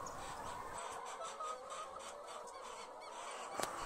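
A large flock of Novogen Brown and Tinted laying hens fills the air with steady, overlapping clucks and calls, a dense continuous murmur with one sharper squawk near the end.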